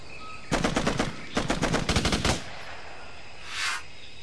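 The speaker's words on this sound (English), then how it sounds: "Receiving enemy fire!" Enemy machine-gun fire in the Raven Squad shooter on Xbox 360: two loud, rapid bursts of automatic fire separated by a brief pause, followed by a softer whooshing sound and then quiet.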